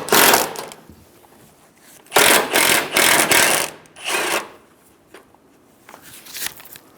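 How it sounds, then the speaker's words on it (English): Ratchet with a 12mm socket loosening the top strut nuts on a 2010-2014 Subaru Outback gives bursts of rapid clicking in several separate runs, close and loud, with quiet gaps between them. "Using a 12mm socket, remove the 3 top strut nuts"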